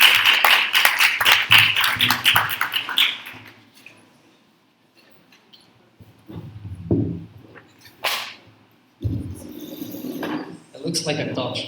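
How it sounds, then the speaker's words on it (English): An audience gives a short burst of close, dense applause and claps for a guest speaker at a human rights report launch event. The clapping fades after a few seconds, and spoken voices and room noises follow. "Claps for João."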